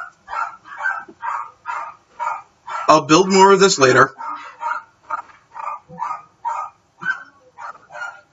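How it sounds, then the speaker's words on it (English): Several dogs bark in repeated bursts throughout, mostly rhythmic barks with one louder, drawn-out stretch of barking or yelping midway, while a person speaks over them. "Oh boy, the dogs are really barking now."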